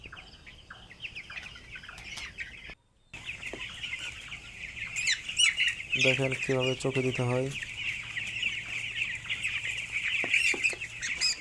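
Chickens being caught for a Ranikhet vaccine cluck and squawk close by, with a burst of rapid repeated clucks in the middle, while a person talks over the commotion.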